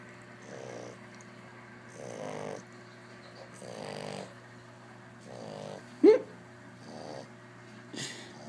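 A dog snores close by in slow, regular breaths, five or six soft rasping snorts spaced under two seconds apart, with one brief squeaky snort in the middle.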